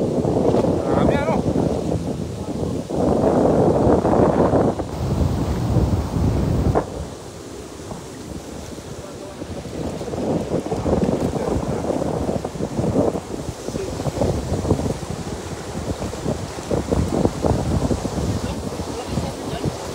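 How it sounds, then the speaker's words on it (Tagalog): Heavy wind buffets the microphone in loud, rumbling gusts beside a wide river while people talk over it. "Malakas talagang hangin, master."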